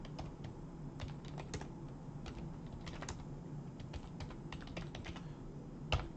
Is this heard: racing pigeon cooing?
no